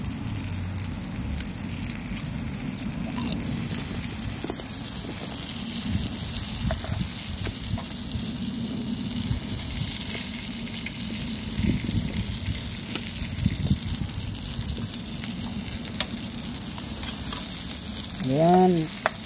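Dried danggit fish frying in hot oil, crackling and hissing steadily at close range for the whole stretch, with a brief louder burst near the end and no talking.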